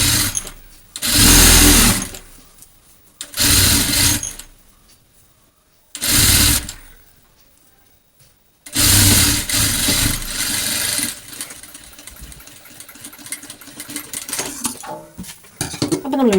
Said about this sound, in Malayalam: താഴ്വശം ഒന്ന് ഇതേപോലെ ഫോൾഡ് ചെയ്ത് കൊടുത്തിട്ട് സ്റ്റിച്ച് ചെയ്തെടുക്കുക